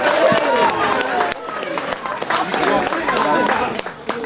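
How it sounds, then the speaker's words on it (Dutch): A crowd applauds a mayor at a Dutch charity event, the clapping dense and loud throughout, mixed with cheering and voices. "Mag ik een waanzinnig applaus voor onze eigen burgemeester John Berends."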